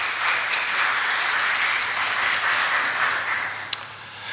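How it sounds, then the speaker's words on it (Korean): Sustained applause from a church congregation encouraging a women's choir after a hymn, a steady wash of clapping holding at an even level throughout with one sharp clap near the end. "격려의 박수 다시 부탁드립니다"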